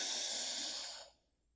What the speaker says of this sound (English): Exhaling back out through the nostrils.